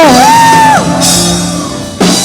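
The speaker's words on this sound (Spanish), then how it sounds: "¿Cuántos tienen un grito de júbilo?" A church congregation at a Spanish-language service shouting for joy: a loud, pitched voice cries out, then bursts of massed crowd shouting rise and break off, near and strong.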